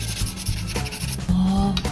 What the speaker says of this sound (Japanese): 番手の粗い紙やすりから順番にかけていってきれいにします。